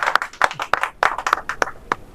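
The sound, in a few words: audience clapping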